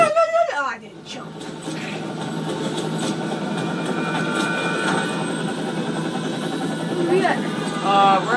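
A helicopter in the shooter video game Fear 3 gives a steady mechanical rotor drone under the game's sound effects, with brief voice-like bursts at the start and near the end.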